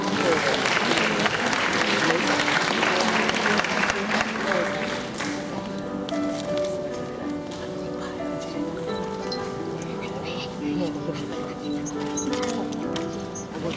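Audience applause at a 2016–2017 primary school graduation ceremony in Tuen Mun, honoring award-winning students; dense, steady clapping fills the hall, loud at first and easing slightly, with background music and talk underneath.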